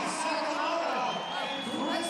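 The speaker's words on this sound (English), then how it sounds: "the crowd gets even louder for those still left on the field" A crowd roars and cheers throughout at a CrossFit competition, the 2022 Rogue Invitational Legends event, as the last athletes finish. The noise is a dense, steady wash of voices with talk mixed in.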